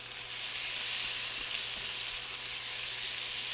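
Onions and peppers sizzle and fry steadily in a skillet for chicken fajita pasta, a loud, even hiss throughout with no talk.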